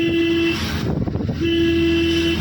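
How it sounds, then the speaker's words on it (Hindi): A car horn blares during a driving lesson: two sustained honks, each about a second long, separated by a brief gap, loud and close. "हॉर्न लंबा देंगे।"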